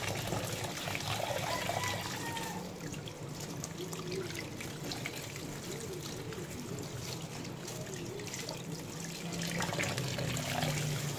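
Tap water running steadily into a sink while meat is washed, a continuous soft splashing and trickling with faint handling sounds.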